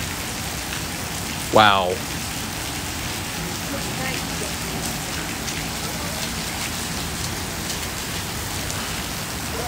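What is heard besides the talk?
heavy rain in Seattle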